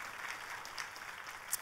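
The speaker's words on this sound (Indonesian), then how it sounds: "Boleh sekali lagi tepuk tangannya yang paling meriah" Church congregation applauding at a worship service, a brief, faint patter of clapping heard at a distance.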